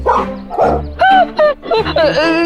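Pet dog in a comedy episode barking repeatedly, a rapid series of loud close yips and bow-wows with a whimpering, squeaky tone, heard alone without talk.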